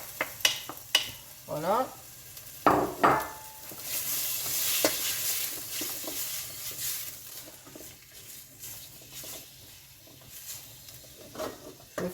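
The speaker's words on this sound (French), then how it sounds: "je vais commencer à revenir mes lardons avec. J'ai mis un gros oignon que j'ai coupé grossièrement" Lardons and a coarsely chopped large onion fry in a pan over fairly high heat for a ratatouille. A swelling sizzle with stirring scrapes and clatter is heard close by, and a voice briefly says one word.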